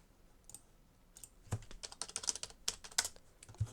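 Quick typing on a computer keyboard to send game chat while playing Barry's Prison, with scattered faint key taps that turn into a denser run of close clicks midway, heard alone without talk.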